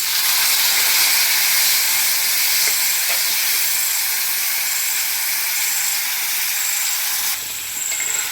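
Tomatoes hit a pan of frying shallots and dried chillies, giving a loud, steady sizzling hiss that fills the whole stretch and drops slightly near the end.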